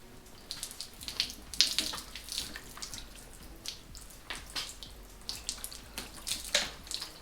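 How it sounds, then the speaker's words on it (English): Water poured over the freshly ceramic hybrid waxed paint of a car, splashing and trickling in uneven bursts with bright droplet spatter, close and moderately quiet, with no talking. "So now I'm gonna pour this water to check out the water beading properties"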